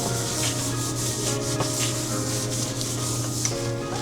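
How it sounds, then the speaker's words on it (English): Steady, close scraping and rubbing as garlic-infused olive oil is spread around a griddle, with a constant hum running underneath. "I'm going to put just a little bit of garlic, infused olive oil, because I don't want it to stick. Just rub it around."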